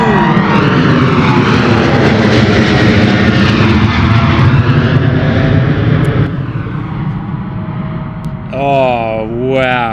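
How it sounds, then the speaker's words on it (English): A Boeing 777 with GE90 engines departs London Gatwick at full power, a loud, roaring engine blast that dominates and slowly fades, with a voice speaking briefly near the end. "Those GE90s were full power, my friend. Full power, absolutely screaming out the door."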